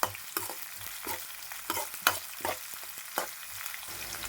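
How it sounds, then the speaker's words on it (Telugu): Chopped onions are stirred into yogurt for perugu pachadi, giving close, wet squelching strokes that repeat in an uneven rhythm with no talking. "వేసుకుని ఒకసారి ఇలా కలుపుకోవాలి."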